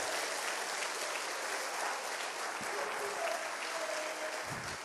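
A church congregation applauds during a worship service, a steady dense wash of clapping lasting the whole stretch at moderate level, with faint voices beneath.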